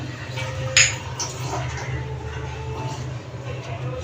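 Ingredients dropped into a pressure cooker pot with lentils, chilli, garlic and onion give a sharp metallic clink, then softer knocks and scrapes against a low steady hum.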